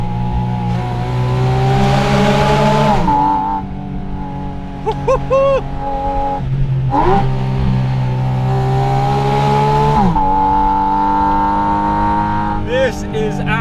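A Porsche 718 Spyder RS engine revs hard near 9,000 RPM, a loud sustained high-pitched wail that rises through gears with brief drops at each shift and echoes as if in a tunnel.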